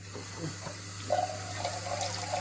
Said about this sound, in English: get some water in this can